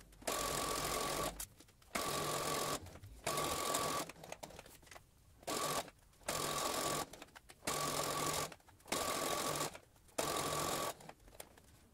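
Sewing machine stitching fabric for a multipurpose bag, running in repeated whirring bursts of about a second each, separated by brief pauses as the fabric is turned, close and steady with no talk.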